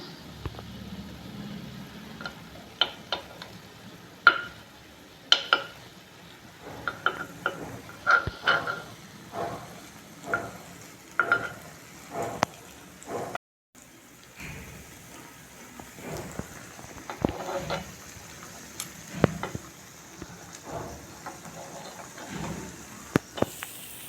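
Pori paniyaram sizzling in a paniyaram pan while being turned, with a low, soft frying hiss broken by sharp metallic clicks and scrapes as each piece is flipped at an uneven rhythm.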